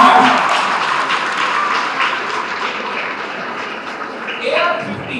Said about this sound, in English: So the clap shouldn't be stopped.